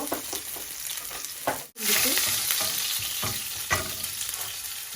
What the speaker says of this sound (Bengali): তেল বেশি গরম হয়ে গেছে। ওকে, এখন আমি রসুন দিলাম